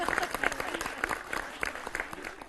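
An audience at a comic poetry recital, a televised Eid mushaira, claps in a quick, uneven burst of applause, moderately close and filling the moment.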